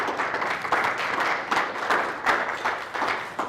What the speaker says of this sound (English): I appreciate that applause.